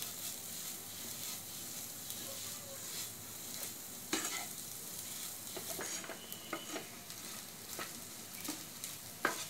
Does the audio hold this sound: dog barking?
no